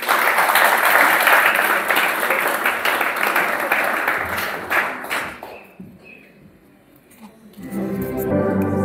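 A church congregation claps and cheers loudly in a dense, sustained wave of applause that tapers off after several seconds, followed by music and voices rising at the end.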